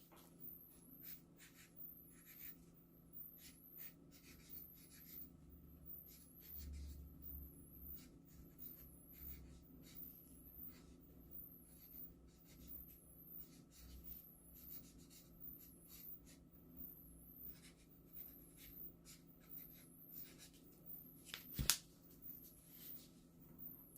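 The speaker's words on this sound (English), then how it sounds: "so I'm writing on the back of it." A marker writes on the back of a plastic plant pot, faint, quiet scratching strokes in a steady rhythm over a low room hum, with one sharp tap near the end.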